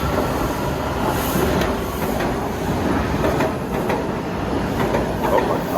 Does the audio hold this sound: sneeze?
no